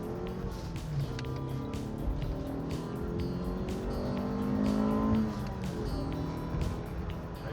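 A 1992 Acura with a small 1.7 liter engine accelerates, its engine note climbing steadily and swelling loudest near the end, with a constant drone of road and wind noise throughout.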